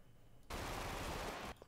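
Video game gunfire erupts as a single sustained burst of rapid automatic shots lasting about a second, loud and dense against an otherwise quiet background.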